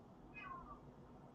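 A single short meow from a cat outside wanting to come in, faint and somewhat distant over a quiet low background hum.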